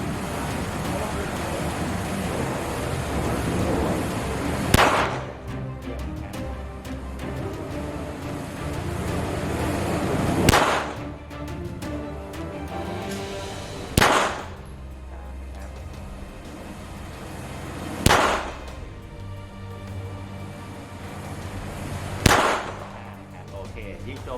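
A Taurus TS9 shotgun fires five loud, sharp shots outdoors at an uneven pace, several seconds apart, over a steady background rush like wind.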